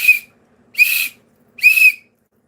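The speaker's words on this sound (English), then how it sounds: "So that's my whistle." A handheld whistle blown in three loud, short blasts with even gaps between them. The blasts sound shrill and piercing, with no talking.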